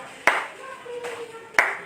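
A few isolated sharp claps, about three spaced slaps of hands near a kitchen cooking set, loud and crisp against a quiet background with a faint tonal ring between them.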